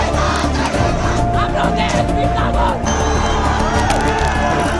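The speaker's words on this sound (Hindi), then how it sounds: "नेपाल की राजधानी काठमांडू में 1000+ लोगों की एक भयानक भीड़ जमा हो गई प्रोटेस्ट करने के लिए" A large crowd of protesters in Kathmandu, Nepal, chants and shouts together in a loud, dense roar of many voices with whoops and cries, sustained without pause.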